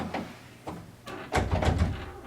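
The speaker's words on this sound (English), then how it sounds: "Let's see if that door is still wiggling." A loose door shifting and knocking on its worn hinge, making soft scattered rattles and a few brief thumps, louder toward the end, with no one talking.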